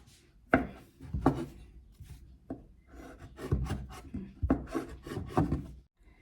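Repeated knife cuts through soft gnocchi dough on a board, a series of dull chopping taps in irregular rhythm, close up with no talking.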